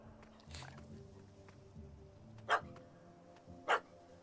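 A dog barks in The Witcher 3 with two sharp, separate barks near the end, over a low game ambience with faint background voices.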